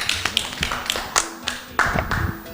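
Children applauding loudly at a celebration of the DRC's 60th anniversary: rapid, uneven clapping throughout, close and bright, with brief voices mixed in.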